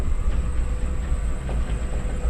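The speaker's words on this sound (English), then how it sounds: "We've got a little carriage coming down to get us." Carriage of the world's steepest railway in the Blue Mountains coming down its track, a close, steady low rumble and rattle with faint clicks and no talk.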